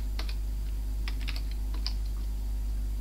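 Typing on a Thomson MO5/TO8 computer keyboard while playing the adventure game Crack le Noir, with scattered, irregular key clicks in small bursts over a steady low electrical hum.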